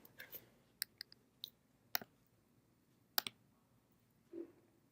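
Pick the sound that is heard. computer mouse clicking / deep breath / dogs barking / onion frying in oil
computer mouse clicking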